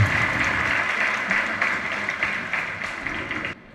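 A hall audience applauds at a Tamil poetry book launch, steady dense clapping from many hands sustained for a few seconds before cutting off abruptly.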